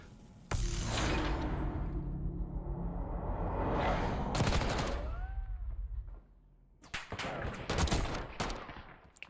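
Gunfire from a wall-bang kill in a Call of Duty CDL Challengers match: a sustained burst of loud shots and game effects, a brief lull, then another scatter of sharp shots near the end.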